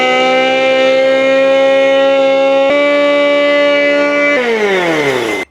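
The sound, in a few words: cheap supercharger whining on a tiny truck engine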